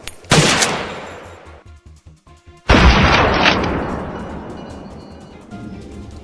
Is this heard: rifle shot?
yes